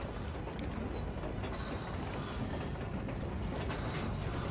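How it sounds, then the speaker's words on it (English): A steam train in the video game Metro Exodus gives off a dense, steady mechanical rattle and clatter of running gear, loud and continuous, with no talk. "There's the train."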